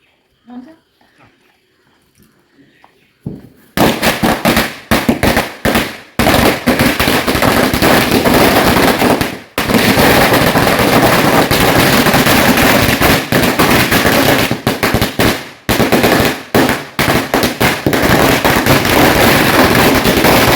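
Firecrackers bursting at a home Vishu celebration in Kerala: after a quiet start, a long dense barrage of loud, close crackling explosions rattles on for over fifteen seconds with only brief gaps, with voices faintly heard early on.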